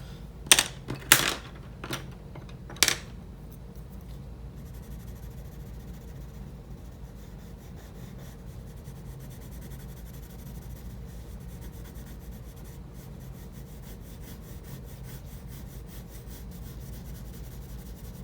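Pencil rubs across paper while shading a cherry drawing, a faint, soft scratching that continues for the whole stretch, opened by a few sharper taps near the start.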